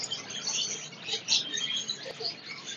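A blue Fischer's lovebird breeder pair at a Sunday bird market chirps in a dense, high-pitched chatter, close and continuous, with many small tweets overlapping and no talk.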